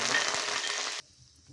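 Cumin, mixed seasoning seeds, two dried red chillies and curry leaves fry hard in hot oil in a pan, a loud dense sizzle that cuts off abruptly after about a second, leaving near silence with faint low rustles.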